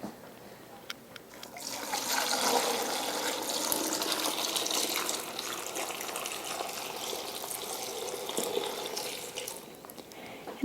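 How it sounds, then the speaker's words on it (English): Cooled boiled water poured over cut apples in a jar, a steady splashing, trickling flow that runs for several seconds up close and tapers off near the end. "now I'm just gonna pour the water"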